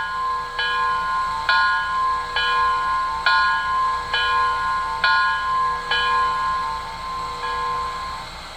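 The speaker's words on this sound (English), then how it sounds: "you might as well go ahead and put the bell sound on there" MTH Bavarian S 3/6 express model train bell rings in a steady series of about nine clear metallic strikes, evenly spaced and close, over a faint background hum.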